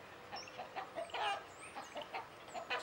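Several chickens cluck and chatter in short, irregular bursts, fairly quiet and close, with light outdoor background.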